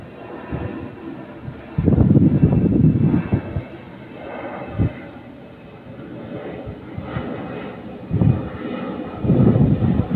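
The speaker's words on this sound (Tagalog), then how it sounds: "Dumadaan guys na airplane, Cebu Pacific. Maingay naman ito." A loud Cebu Pacific airplane engine roars overhead at Manila Bay, swelling and fading with broadband rumble, with traffic-like noise surging at moments.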